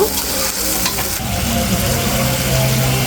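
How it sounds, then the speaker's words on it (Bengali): Chicken masala with taro, water and powdered spices stirred in a pan, a loud steady sizzle with scraping stir strokes near the start, continuous and close. "এখন আমি একটু নেড়ে চেড়ে গুঁড়ো মশলাগুলো দিয়ে দেব"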